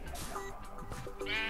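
Pink sheep in Minecraft bleat in a few quick, wavering calls, close and moderately clear over a soft background.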